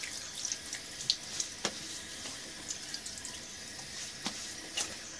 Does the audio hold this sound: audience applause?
no